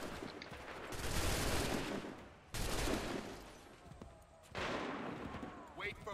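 Musket volleys crack out in the Assassin's Creed III video game, three loud broad bursts of massed fire roughly two seconds apart, each decaying into a rumbling tail before the next.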